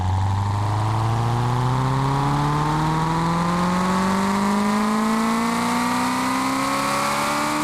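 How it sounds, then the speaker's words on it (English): A video game car engine pulls hard in sixth gear, its revving tone climbing steadily and loudly for several seconds with no talking. "Let's go for like a high gear pull,"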